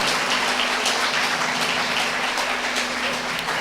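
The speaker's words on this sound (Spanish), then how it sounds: "Denle un aplauso fuerte al Señor." A church congregation applauds together, a dense, steady wash of clapping that stays loud and even throughout, with no voices standing out.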